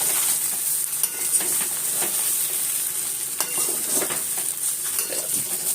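Tempering poured into a pan over freshly made Gujarati dhokla, a loud, constant oily sizzle and hiss with faint utensil scrapes and stirring bumps, and no talking.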